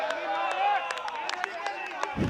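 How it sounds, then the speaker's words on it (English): At a T10 cricket match, a crowd keeps up a steady roar of voices and whistles with scattered claps and shouts, heard at a distance under a commentator talking. "The crowd getting into it"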